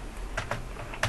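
A few light keystrokes on a computer keyboard while HTML is typed, soft scattered clicks in a quiet room.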